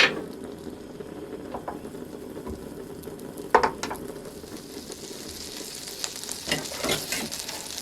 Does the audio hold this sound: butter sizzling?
yes